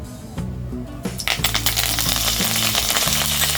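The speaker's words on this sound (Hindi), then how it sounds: "जीरा क्रैकल होने के बाद हम डालेंगे 2 से 3 ड्राई रेड चिलीज, 8 से 10 करी लीफ या कड़ी पत्ता" Cumin seeds, dry red chilies and curry leaves hit hot oil, starting quietly and then bursting into dense, loud crackling and popping that keeps going steadily, with a tonal hum underneath and no voices.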